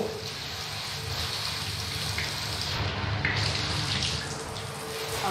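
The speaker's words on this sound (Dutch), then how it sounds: "het is een lastige kraan" Water runs steadily from a tricky tap in a home while hair is being dyed, a continuous hiss and splash close by with no talk over it.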